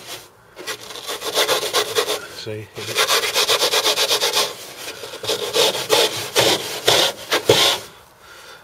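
A water fed pole scrubber brushes back and forth along window glass in rhythmic, close scrubbing strokes with brief pauses, while a person talks briefly.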